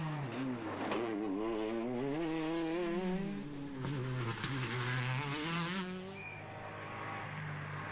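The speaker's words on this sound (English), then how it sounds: "Steven Dolphin, at the wheel of the Citroën DS3 R5" A Citroën DS3 R5 rally car at the Rally van Haspengouw round of the Belgian Rally Championship drives hard, its engine rising and falling through gear changes, loud and close before fading away.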